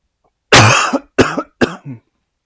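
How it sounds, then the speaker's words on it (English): A person coughs three times in quick succession, close and loud, with a short throat-clearing edge between the bursts, during a tabletop card game session. "There's something in my throat, that's why I keep coughing."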